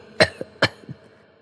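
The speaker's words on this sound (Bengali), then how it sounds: "কাশি শব্দ করতে দুজনের হুঁশ হল" Two short, sharp coughs sound close by in a quiet room, a brief pause between them, each trailing into a faint throaty rasp.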